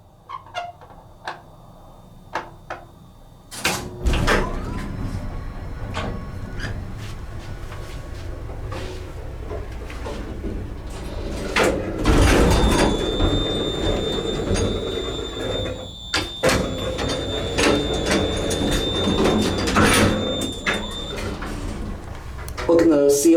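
A vintage Otis single-speed traction elevator starts up with a heavy thump, then runs with a steady low rumble and whine, plus scattered clunks and a high tone, until it stops firmly; a person speaks briefly.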